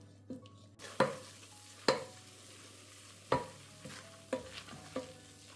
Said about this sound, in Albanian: E fërgojmë në zjarr mesatar për 3-4 minuta, por nuk duhet që ta skuqim shumë, thjesht pak sa të fërgohet mielli